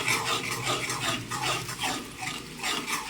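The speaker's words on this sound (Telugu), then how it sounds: "ఇలా బాగా కలిపెట్టుకుంటాం." A spoon stirs Nellore-style fish curry (chepala pulusu) with pureed tomatoes in a cooking pot, making close, rhythmic scraping and sloshing strokes that repeat steadily and evenly, with no voices over them.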